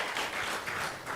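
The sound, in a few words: audience applause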